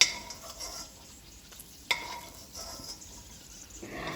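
Cashews frying in leftover ghee for a special rice dish give a quiet, steady sizzle with occasional stirring scrapes and a sharp clink near the middle; no one speaks.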